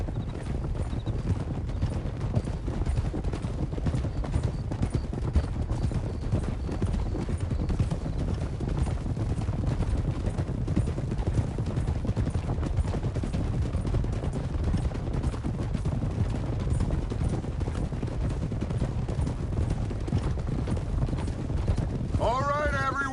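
Horses' hooves clip-clopping in a video game, a steady continuous patter of several hooves trotting at moderate volume, with a faint whinny near the end.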